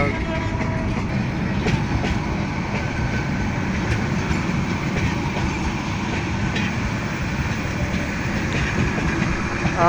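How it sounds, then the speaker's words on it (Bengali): A large train from Dhaka rolls into Joydevpur station with a loud, continuous rumble and rhythmic clickety-clack of the wagons nearby, and a faint horn sounds briefly. "বিশাল বড় ট্রেনটি জয়দেবপুর স্টেশনে এসে থামবে কিছুক্ষণের মধ্যে ঢাকা থেকে চলে এসেছে ট্রেনটি"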